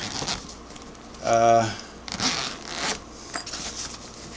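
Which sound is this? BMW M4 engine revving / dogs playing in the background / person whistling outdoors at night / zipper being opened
zipper being opened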